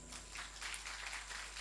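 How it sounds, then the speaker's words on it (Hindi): Congregation clapping at a Sunday church service, a faint, steady patter of many hands under a low background hum. "जिसे अच्छा लग रहा है वो जोर से ताली बजाओ"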